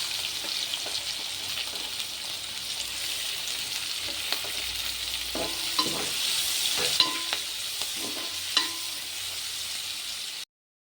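Onions and green chillies fry in a pan for a Godavari-style egg, dried prawn and okra curry, with a steady bright sizzle and intermittent scrapes and clinks of stirring, close and fairly loud, no speech.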